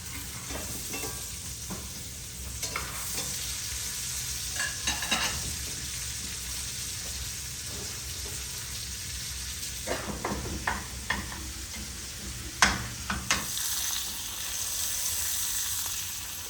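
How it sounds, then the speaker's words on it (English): Steady sizzling and spattering of meat frying in butter in a hot pan on a wood cook stove, with occasional scraping stirs and clinks of a utensil, fairly quiet and close. "I am frying it in butter on a wood cook stove"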